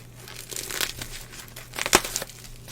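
Crinkling plastic packaging being handled and cut open with a knife while unpacking mailed cables, with irregular rustles and a sharp crackle near the end, close and fairly loud.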